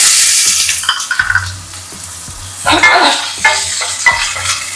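Onions sizzle and fry with cumin seeds in a little mustard oil in a pan, a steady crackling hiss broken by several knocks and scrapes of a utensil stirring against the pan.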